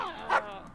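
A dog in the Guardians of the Galaxy video game gives a single short bark over a soft background murmur.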